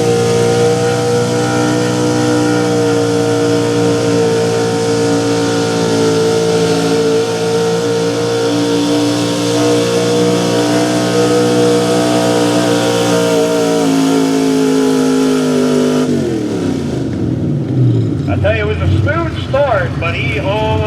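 A Dodge Ram pulling truck with a small block engine at a 4x4 truck pull competition holds a loud sustained high rev, then the pitch drops and the note falls apart into rough, sputtering engine sound near the end, while an announcer talks throughout.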